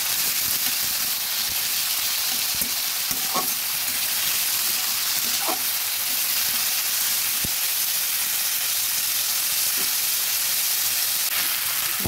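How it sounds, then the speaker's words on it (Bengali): Chopped tomato frying with mutton in a pan, a steady bright sizzle throughout with a few soft clinks of stirring, no voices. "একটা টমেটোকে সুন্দর করে ধুয়ে ছোটো ছোটো করে কেটে নিয়েছি। এবার ভেজে নিচ্ছি।"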